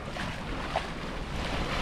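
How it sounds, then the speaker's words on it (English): Steady wind rushes over a sailboat at about 11-12 knots on the Caribbean crossing to Dominica, with broadband buffeting and water wash, a brief gust-like bump in the middle, no voices. "We've got a nice little bit of wind, about 11-12 knots."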